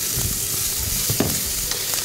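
Shallots sizzle and crackle steadily in a saucepan, a dense close frying hiss with scattered sharp pops and no talk.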